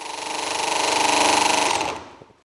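A swash plate mechanism spins up at full throttle with a rapid, rattling mechanical whir that grows louder, holds for about two seconds and then winds down and stops, close by and alone.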